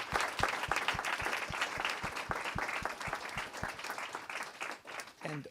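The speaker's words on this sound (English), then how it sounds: "join me in a round of applause to our speakers for the excellent inputs" An audience at a policy event applauds the speakers, a dense sustained burst of clapping from a roomful of people that carries on throughout before tapering, with a voice briefly at the end.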